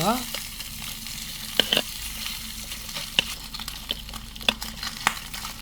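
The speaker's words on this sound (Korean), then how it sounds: "스팸 구이 노릇노릇하게 아주 잘 구워지고 있습니다" Spam slices frying in a Japanese type 2 battle cooker mess tin, an even close sizzle punctuated by several sharp metallic clicks and scrapes of a utensil against the tin.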